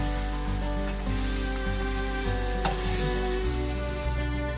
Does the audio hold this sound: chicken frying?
yes